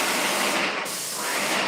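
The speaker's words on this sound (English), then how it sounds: "now Aaron's spraying it vertically" A paint sprayer sprays a level 5 drywall finish onto a wall with a loud, continuous hiss. The spray dips briefly in the middle, then resumes at full strength.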